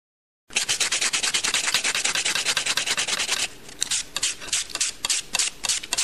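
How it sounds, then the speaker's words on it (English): A nail file rubs rapidly in short rhythmic strokes, buffing a water-filled bubble nail smooth, close and steady, with the strokes growing choppier and more uneven toward the end. "So you're buffing it and you're making it smooth."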